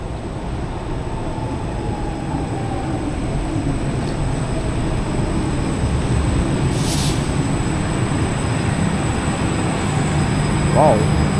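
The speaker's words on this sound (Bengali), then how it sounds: "সো মেট্রো আসছে দেখুন ইস্তানবুলের" An Istanbul metro train rolls into a station with a steady, building rumble of wheels on rail, a brief high brake squeal partway through, and a faint voice in the background.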